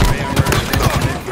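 A gunshot in Halo Infinite during a competitive match, one sharp report inside a quick run of clattering game sounds, loud and close.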